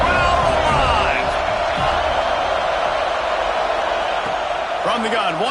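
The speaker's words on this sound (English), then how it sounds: "Crowd alive." Crowd at a college football game between Kentucky and FSU roars steadily throughout during a third-down red-zone play, a dense continuous wash of cheering under a play-by-play commentator's voice.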